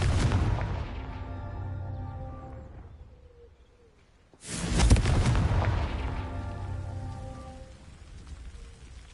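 A Confringo fire spell explodes in Hogwarts Legacy, a loud booming blast with a long rumbling tail, following an earlier burst fading into quiet.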